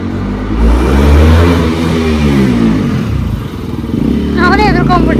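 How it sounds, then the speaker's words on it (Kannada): A motor vehicle passes along a road near Colva Beach, its engine rising and fading over several seconds, with people talking loudly nearby throughout. "ಗಾಡಿ ಬರ್ತೈತಿ ಈ ಕಡೆ ಬರ್ರಿ"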